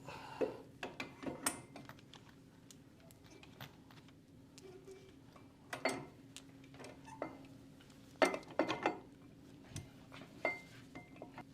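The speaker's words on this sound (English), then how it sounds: "So we're going to attach the retaining bolts for the back plate." Small retaining bolts are fitted to a pump back plate during a mechanical seal install, bringing scattered metallic clinks, taps and ratchet-like clicks at close range in a quiet workshop.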